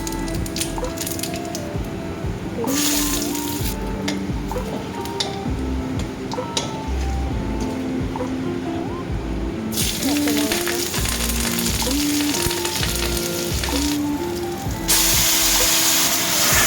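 Dry red chillies and panch phoron tempering in leftover fish-frying oil for fish head with taro greens, a close continuous sizzle with hissing surges and bursts of crackle, faint background music underneath.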